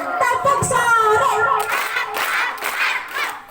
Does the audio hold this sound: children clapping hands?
yes